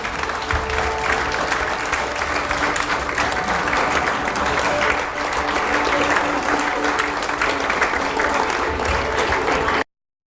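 Church congregation applauding during a pastors' consecration service: steady, dense clapping from many hands sustained for about ten seconds, loud and even throughout, with crowd voices mixed in underneath.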